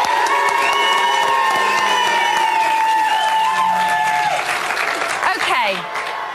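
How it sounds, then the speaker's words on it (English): A studio audience at a live Big Brother UK eviction roars with sustained cheering, whistles and dense applause, loud and continuous throughout before easing slightly at the end. "But quite a big reaction from the crowd this evening."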